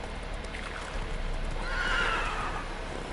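Horse neighing in The Witcher 3 video game, a single drawn-out whinny rising over a steady background rumble of hooves and ambient noise, moderately loud and close.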